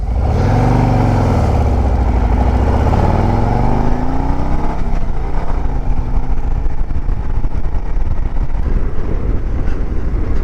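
A Harley-Davidson Road Glide motorcycle engine revs and rises in pitch as the bike pulls away in first gear, settling into a loud, steady rumble with wind buffeting the microphone.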